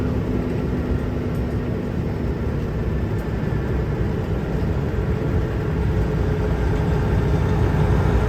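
Kenworth K100 truck with a recently rebuilt engine, heard from inside the cab: a loud, steady low engine drone that builds slightly in intensity as it pulls, with no talking.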